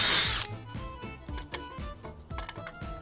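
A power drill re-bores a hole in wood in several short, sharp bursts, the motor whining up and cutting off between stops, heard up close on a workbench with no voices.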